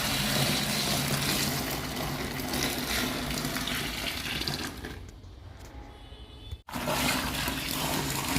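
Water pours loudly and steadily into a container holding door mats mixed with liquid detergent, soda and salt, then tapers off and stops briefly before resuming.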